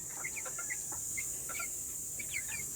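Chickens on a farm, including 45-day-old birds, give soft scattered clucks and short chirpy calls over a steady hiss, with no talk.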